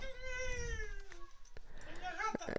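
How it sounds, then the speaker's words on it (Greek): Cats meow in a video game set in an apartment full of cats, with several drawn-out, wavering cries up close, and a player talks under them. "Ναι, είμαστε μέσα σε διαμέρισμα με πολλές γάτες."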